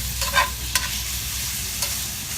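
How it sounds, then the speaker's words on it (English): Bacon frying in a Dutch oven outdoors, a continuous close sizzle broken by a few sharp pops and utensil scrapes, with no talking. "So we've got our bacon going."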